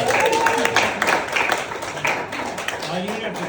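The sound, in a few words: audience applause at comedy show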